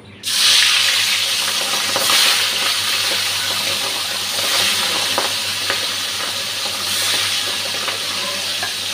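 Fish rubbed with salt and turmeric frying in hot oil in a pan, a steady close sizzle and crackle with spattering pops, loud throughout after an abrupt start.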